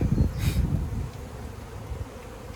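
Honey bees hum at a hive in a steady, close drone with a brief rustle near the start, and no voices are present.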